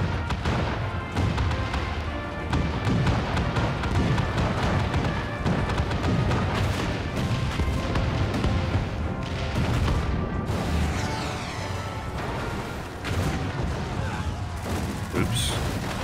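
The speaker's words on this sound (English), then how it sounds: "All cannons! Fire at will!" Cannons firing in Final Fantasy XIV, a sustained barrage of booming blasts and crashing impacts layered over a dense game soundtrack, with voices talking at times beneath the noise.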